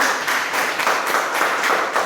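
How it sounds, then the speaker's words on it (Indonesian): A class of students applauds the teacher after a micro-teaching lesson, a steady wash of many hands clapping at moderate loudness for about two seconds with no talk over it. "beri tepuk tangan yang mengajar"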